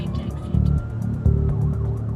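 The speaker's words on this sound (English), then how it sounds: "We're coming to you as quickly as we can on lights and sirens, okay?" Emergency ambulance siren sounding close and loud over a rumbling vehicle engine as the crew drives on lights and sirens, with repeated pulsing tones.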